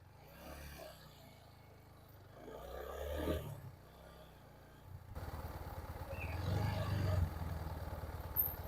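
A TVS Apache RTR 4V motorcycle engine idles and revs, quiet at first and then a steadier, louder running drone with a rough edge, rising toward the end.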